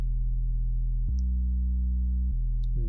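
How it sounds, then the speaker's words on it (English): Synthesized 808 bass made in Massive, a deep sustained sine-like boom held for about a second, then shifting to a lower note and back, with faint clicks and a short bright blip near the end. "This is an 808 that I made. It's not a good one, but I'll use it as an 808 bass."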